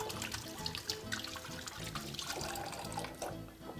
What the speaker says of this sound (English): just going to rinse my hands quickly